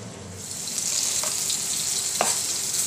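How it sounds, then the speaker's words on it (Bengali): Onions fry in white oil in a wok on a stove, giving a continuous close sizzle that swells slightly, with a couple of brief stirring knocks and no voices. "কড়াই দিয়ে পেঁয়াজ দিয়ে দিচ্ছি, সাদা তেল দিচ্ছি"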